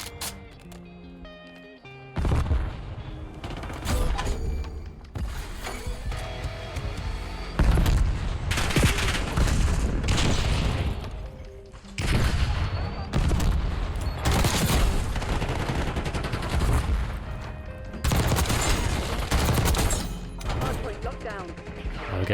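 Rapid bursts of CR-56 AMAX assault rifle fire in Black Ops 6 multiplayer crack out in repeated loud volleys, broken by short pauses, with booms and impacts mixed in.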